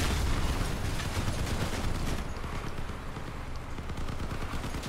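In the vehicle combat video game Crossout, rapid gunfire rattles in dense, continuous bursts, loud and close, easing a little after the first couple of seconds but carrying on throughout.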